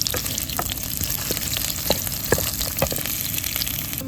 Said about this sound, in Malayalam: 3 ഉണക്കമുളക്, പിന്നെ 3-4 കറിവേപ്പില, ഇത്രയും നമുക്ക് മൂക്കാൻ വേണ്ടിയിട്ട് അതിൻ്റെ അകത്തേക്ക് ചേർത്ത് കൊടുക്കാം